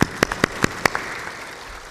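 Audience clapping at a spiritual gathering: a short burst of a few sharp, separate claps, fairly close, fading quickly into quiet room tone.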